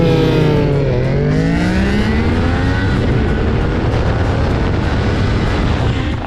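A 675 sport motorcycle accelerates hard past a Ninja 400 on the road, its engine climbing in pitch through rising revs, loud and close over heavy wind roar, then settling into a steady high-speed drone.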